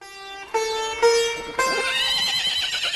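A horse neighs in a stable, a loud drawn-out whinny in several rising and shifting bursts lasting about two and a half seconds, close by and alone.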